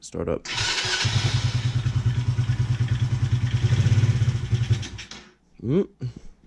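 A Taotao 125 motorcycle, re-jetted with a Dynojet kit, is cranked on a chilly day. The starter chugs rhythmically for about four seconds before cutting off, followed by a brief spoken remark.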